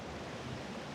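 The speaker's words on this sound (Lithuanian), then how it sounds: "Gražus upelis" A stream in Borjomi park, a faint, even wash of flowing water with no distinct splashes or voices.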